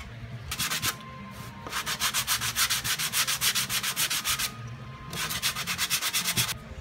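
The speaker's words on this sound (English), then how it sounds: "Only sand diagonally." Hand sanding a car body panel during auto bodywork, steady rhythmic back-and-forth rasping strokes in three runs, close and fairly loud, with short pauses between runs.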